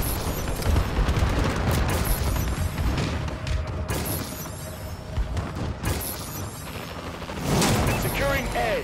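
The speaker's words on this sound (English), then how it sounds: "Friendly bombing run incoming" Rapid gunfire, booms and crashing explosions from a Call of Duty multiplayer match with a bombing run killstreak, loud and dense almost throughout, with in-game voices talking over the battle.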